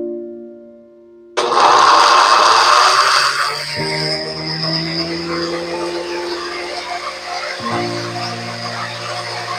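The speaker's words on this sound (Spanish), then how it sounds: "a licuar los ingredientes" A blender switches on abruptly and whirs loudly and steadily, purees salad dressing ingredients, and shifts in pitch twice as the blades bite into the mixture.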